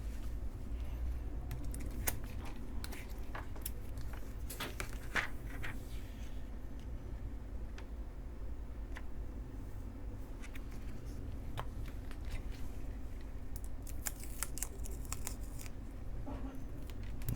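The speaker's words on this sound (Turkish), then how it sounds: "Eski ekranımızı kaldırabiliriz." Cracked screen being pried and lifted off a Samsung Galaxy Tab S6 Lite during a screen replacement: scattered small clicks, scrapes and ticks of tools on glass and adhesive over a low steady background hum, close up, with no talk.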